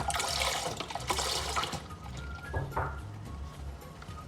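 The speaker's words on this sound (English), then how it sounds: "in a non-stick deep bottom and heavy bottom pan, I'm going to pour in all the milk" One liter of milk pours into a non-stick, deep, heavy-bottom pan, making a soft, continuous liquid splashing close by that tapers off toward the end.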